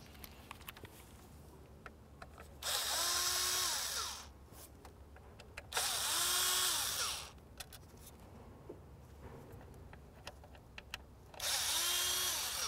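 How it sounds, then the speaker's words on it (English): Three bursts from a power driver backing out T15 Torx screws while replacing the ignition control module on a 2005-2010 Chevy Cobalt, each a loud whirring run of about one to two seconds, with quiet pauses between them and no talking. "The next thing we want to do is remove our three T15 Torx screws."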